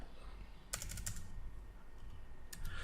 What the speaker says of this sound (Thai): ให้พิมพ์ UCS นะครับ